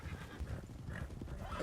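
Horse hooves clip-clop in a ranch roleplay video game, a quick run of faint, muffled steps over a low rumbling background, brief and distant.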